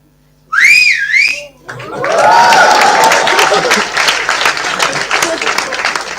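An audience member whistles a rising and falling tune at a leadership session, loud and close for about a second, then the crowd breaks into sustained applause and cheering.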